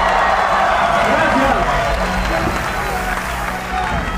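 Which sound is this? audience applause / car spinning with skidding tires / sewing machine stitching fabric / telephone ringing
audience applause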